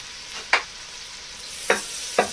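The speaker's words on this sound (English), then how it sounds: "So in go half an onion, 300 grams of the leeks, with 60 grams of homemade butter." Half an onion and leeks fry in homemade butter, a soft steady sizzle broken by three brief scraping stirs, close and fairly quiet.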